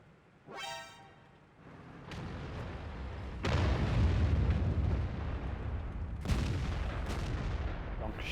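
A tank cannon fires in the World of Tanks video game: a brief tonal blare, then several loud booming blasts with heavy rumbling tails, alone with no talk.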